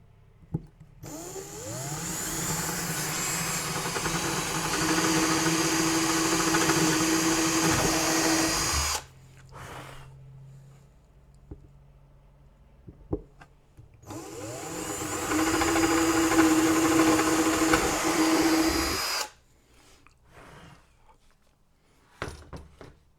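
A power drill whirs in two long bursts, each several seconds, separated by a quiet pause with small handling noises.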